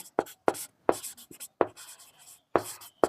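Pen or chalk writing out a Class 9 math solution, a series of sharp close strokes and scratches in short uneven bursts with brief gaps between them.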